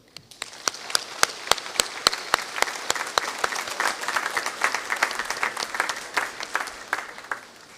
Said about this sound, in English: let's thank all the people who've supported you with a round of warm applause.